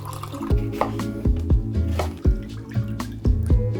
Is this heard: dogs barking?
no